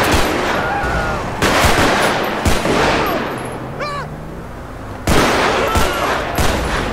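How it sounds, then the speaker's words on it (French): Gunfire erupts on a highway in GTA V with the LSPDFR mod: sharp, loud shots crack in irregular clusters, separated by short lulls, with fainter whistling tones between bursts. "Il y a une fusillade en pleine autoroute."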